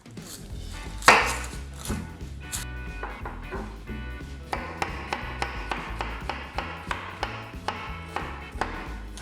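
A knife chopping an onion on a cutting board, with steady, evenly spaced sharp taps that form a regular rhythm, close and clear, with no talking.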